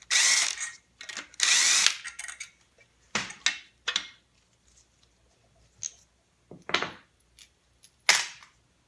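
Hand tools work on a timing belt tensioner in a 3SGTE engine bay, producing scattered sharp metallic clicks, ratchet bursts and clanks spaced irregularly with quiet gaps between them.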